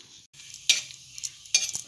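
Fenugreek seeds and dried red chillies frying in hot oil for a tadka, giving crackling sizzle bursts close up, with a stirring scrape between pops.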